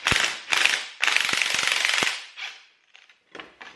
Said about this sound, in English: now I can slowly take the tension off these spring clamps one by one.